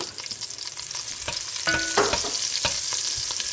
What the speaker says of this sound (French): Marianne va mettre les petites échalotes dedans